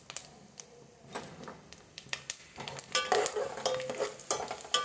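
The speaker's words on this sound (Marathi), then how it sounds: "आपण मोहरी आणि जिरं टाकलं आहे त्याच्यात" Mustard and cumin seeds crackle and pop in hot oil, sparse at first and then building into a busier sizzle with sharp spattering bursts.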